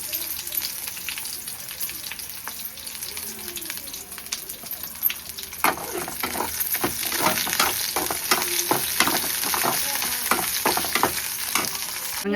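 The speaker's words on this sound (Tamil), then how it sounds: "இப்போ நல்லா கடுகு பொரிய ஆரம்பிச்சிருச்சு. இந்த ஸ்டேஜில் நம்ம வந்து கத்திரிக்காவை ஆட் பண்ணிக்கலாம்." Mustard seeds spluttering in hot oil with eggplant added, a continuous sizzle that grows busier with dense crackling pops midway, close and loud without talk.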